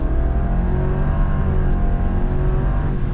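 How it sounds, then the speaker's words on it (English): A 2025 Subaru Outback Touring XT with its turbocharged engine pulls away from a start, a steady, loud engine drone with rising tone heard from inside the cabin, continuous throughout. "setting off now, giving it some throttle"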